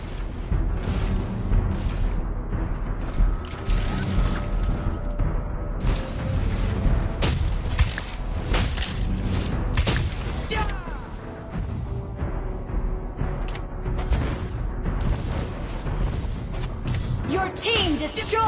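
Heavy explosions and mechanical crashes fill a video game shootout in X-Borg as a turret is destroyed, with repeated booms and bursts in dense, loud succession alongside game sound effects.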